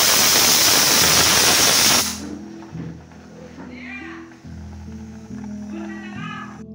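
Rice and dal cooking side by side on a home stove let out a loud, steady steam hiss for about two seconds before it cuts off, then quieter kitchen sounds follow with voices or music in the background.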